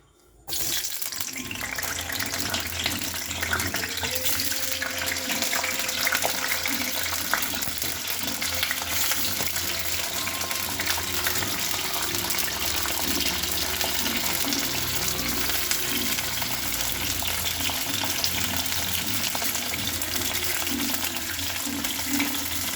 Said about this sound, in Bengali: কড়াইতে তেল দিয়ে দিয়েছি, এবার ফুলকপিটা আর আলুটা আমি ভালো করে ভেজে নেব